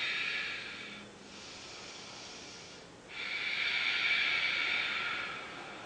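Slow, deep breathing during a yoga pose, heard as two long airy exhales or inhales separated by a brief pause, soft and close with no talking.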